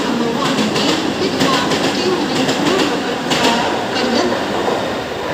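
An Indian Railways train passes close by near Thakurli, a loud, continuous rumble of wheels with rhythmic clickety-clack from the carriages throughout.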